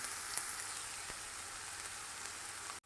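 Onion sautéing in a pan for a Goan cluster beans and potato bhaji gives a steady, even hiss of frying with a few faint clicks, constant and unbroken right up to an abrupt stop.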